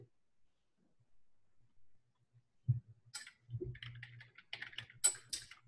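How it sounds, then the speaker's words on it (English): After a few quiet seconds, a computer keyboard is typed on in light, irregular clatters of keys. The clicking is close but soft and sounds through a quiet room. "I'm just going to finish typing something."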